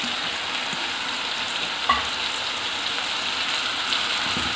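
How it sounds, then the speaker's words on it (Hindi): Garlic and tomatoes fry in a pan for street-style chicken biryani, a steady close sizzle running throughout with one brief clink near the middle, no voices. "लहसुन डालने के 1-आध मिनट बाद ही ये अब मैं डाल रही हूँ टमाटर"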